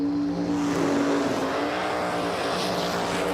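Top Dragster race cars at Empire Dragway, long and skinny drag racers, roar at full throttle in a loud, continuous engine blast with rising harmonics across the whole moment.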